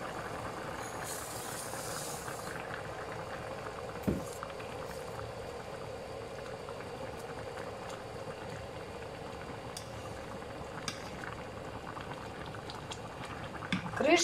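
Water with bulgur simmering uncovered in a pot on a stove gives a steady, soft bubbling hiss throughout, with a couple of faint clinks.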